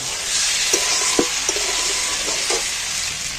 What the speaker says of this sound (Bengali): যেইভাবে মাংস কষে সেইভাবে এটাকে শুধু কষিয়ে নেব